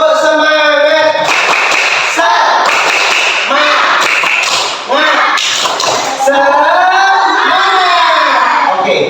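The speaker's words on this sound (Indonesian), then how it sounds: "Kita tepuk semangat dulu" A primary-school class does a rhythmic 'tepuk semangat' spirit clap in unison, loud crisp clap bursts in patterned groups, mixed with children's voices chanting and shouting together close by.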